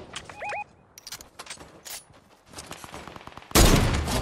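Gunfire in the video game Fortnite during sniping, a series of short cracks and clicks through the middle, ending in a loud, sustained blast of noise, with no talking.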